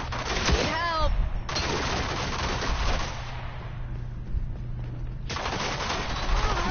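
Sniper rifle fire in Counter-Strike, heard as loud, sharp broadband bursts at the start and again near the end, with a quieter stretch of game ambience between them.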